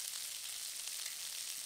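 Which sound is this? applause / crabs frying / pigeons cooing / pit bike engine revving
crabs frying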